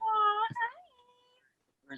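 A house cat lets out a drawn-out, clear meow up close, followed by a short second call, then quiet with a faint trailing sound at the end.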